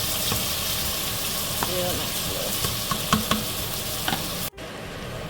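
Cabbage, bacon and chopped vegetables frying in grease, a loud steady sizzle with occasional pops and utensil clicks, someone briefly speaking over it before the sound cuts to a quieter sizzle near the end.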